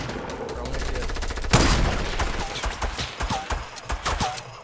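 Distant enemy gunfire in the game Fortnite: a dense crackle of repeated shots across the clip, with one loud burst near the middle over constant game background noise.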